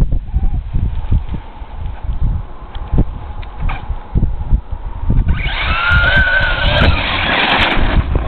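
A Traxxas Stampede RC truck on pavement rumbles and clatters at first, then its motor rises into a loud, sustained high-pitched whine during a speed run.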